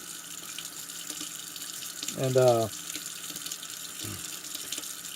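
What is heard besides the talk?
revolver parts rinsed in running water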